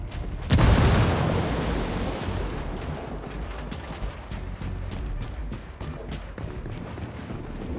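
A frag grenade goes off in the Ghost Recon Wildlands video game: one loud, close blast just after the start, followed by a long rumbling tail under steady background noise.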